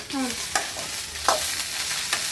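Cluster beans (chavalikai) fry in oil for a North Karnataka palya, giving a steady close sizzle with a few sharp stirring scrapes and clinks of a spoon against the pan, and no talking.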